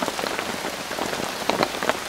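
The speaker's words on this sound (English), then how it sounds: "Look at that rain." Heavy rain pours down in a wood after a heatwave, a dense continuous patter of drops on leaves and surfaces with a few louder nearby splats, with no voices.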